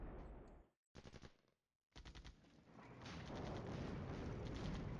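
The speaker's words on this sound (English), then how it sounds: "We're in a very heavy artillery fire here." Heavy artillery fire in the Cold War wargame Flashpoint Campaigns: dense, rapid volleys of loud blasts that cut out briefly, then build into a sustained roaring barrage.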